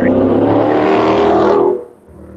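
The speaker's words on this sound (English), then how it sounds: "That jerk with a motorcycle." A motorcycle roars loudly past at close range for about a second and a half, then its engine noise drops away quickly into quieter background.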